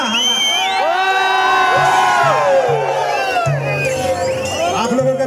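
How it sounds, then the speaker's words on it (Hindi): A live Karam programme crowd in Punjabi Bagh, Delhi, cheers, whoops and shouts loudly and continuously, with whistles weaving through the roar and a steady low musical drone beneath. "एक बार जोरदार ताली बजाए दे, प्यार भरा ताली, प्यार भरा."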